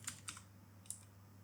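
Light keystrokes on a MacBook keyboard while typing a search, a few soft clicks spaced apart over a steady low hum, close and fairly faint with no talking.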